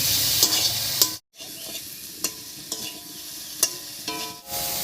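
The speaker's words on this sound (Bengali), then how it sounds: "এই অবস্থায় বেগুনটাকে একটু ভাজা ভাজা মতো করে নেব" Eggplant sizzles steadily in a hot pan, interrupted by several sharp scraping clinks of a spatula stirring, with one brief drop into silence.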